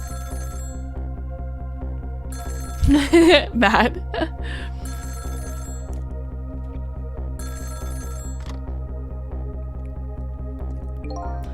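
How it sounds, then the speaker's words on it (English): A telephone rings in the video game Ghost Trick: a short, bright ringing burst rising over steady looping game music, with a brief spoken word nearby. "the phone rang"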